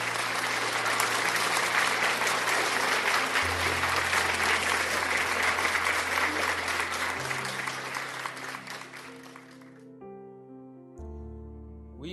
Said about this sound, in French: Let us applaud for the Holy Ghost in the name of Jesus Christ.